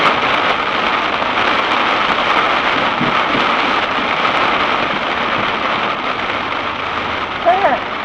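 Heavy rain and a thunderstorm in the Rocky Mountains, heard from a vehicle on a drive with a steady loud roar of downpour throughout and a brief swell near the end.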